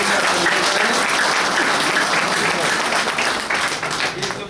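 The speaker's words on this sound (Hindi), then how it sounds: "एक बार मैं सभी को कहूंगा एक बार ताली बजा करके" An assembled audience breaks into sustained applause, a thick wash of clapping that holds steady for several seconds before beginning to thin toward the end.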